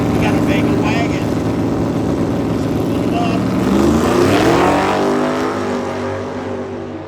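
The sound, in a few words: Chevrolet Camaro and Vega wagon at a drag strip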